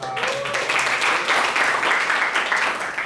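Steady audience applause in a school classroom session on tax awareness, a continuous dense clapping that stays loud and even for about three seconds without talk.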